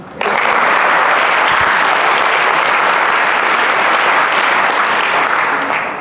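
Students at a school in Papua burst into loud applause, the clapping starting abruptly and holding as a thick, steady roar of many hands until it eases slightly at the end.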